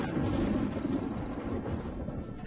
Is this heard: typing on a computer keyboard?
no